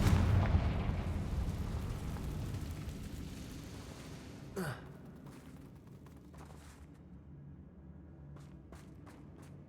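A Confringo fire spell in the Hogwarts Legacy video game bursts as a loud blast, its rumble fading over several seconds, then a sharp crack and a few fainter pops.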